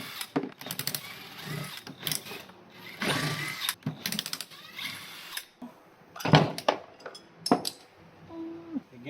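Engine bolts on a 3.6 V6 being unscrewed with a Torx T30 bit, giving irregular metallic ratcheting clicks, rattles and clinks in quick bursts with short pauses, close and moderately loud.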